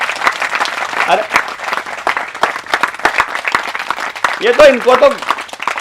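An audience claps in uneven, scattered bursts while someone talks loudly over them in Hindi, with a few raised voices in the room breaking through near the end.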